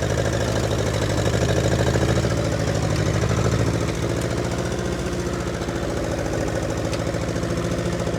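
A 1952 Ferguson TEA 20 tractor engine chugs steadily close by while ploughing a garden, a rhythmic low knocking putter that holds a constant pace throughout.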